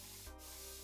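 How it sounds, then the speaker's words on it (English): A handheld spray bottle gives one short, soft misting burst onto hair being moisturized before passion twists, close and quiet with no talking. "I think I got this spray from Amazon too."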